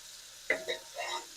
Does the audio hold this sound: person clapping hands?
no